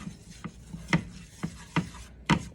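Oil and grease get stirred together in a pan for tomato gravy, a utensil scraping and rubbing in five or six distinct strokes that are close and fairly quiet.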